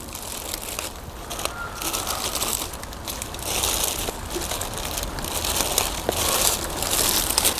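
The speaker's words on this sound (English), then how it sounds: "Cover the whole thing up with the plastic bag." A plastic bag crinkles and rustles continuously over a plant pot for several seconds, a close, dry crackling texture with no talking.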